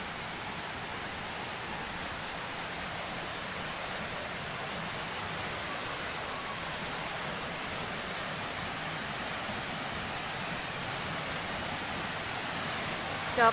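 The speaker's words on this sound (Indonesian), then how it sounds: "Nah, dengarkan suaranya air terjun." The Coban Jahe 3 waterfall, a steady broadband rush of falling water that stays even and continuous and sounds fairly distant.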